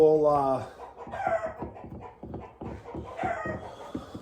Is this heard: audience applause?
no